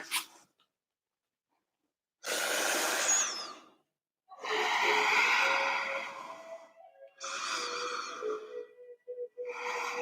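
Deep audible breaths during a lunch-break yoga flow, several long airy inhales and exhales in slow rhythm, close and moderately loud, separated by short silences, with no talking.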